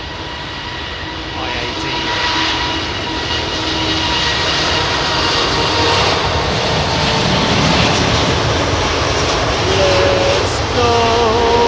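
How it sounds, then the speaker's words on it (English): A Thai Airways Boeing 777-300ER departs Heathrow runway 27R at dawn after a technical delay, its engine roar building and holding loud and steady, with a few brief spoken words heard over it. "Wow, this is a D-rated departure, mate."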